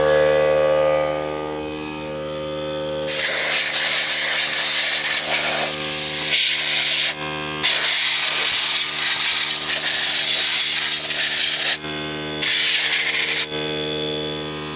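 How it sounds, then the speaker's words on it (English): An air compressor nozzle blows dust out of a Honeywell HHF565B space heater with a seized fan motor, giving loud, harsh rushing hisses in long bursts with brief pauses between them. "blow all the dust out of it and see if that makes any difference."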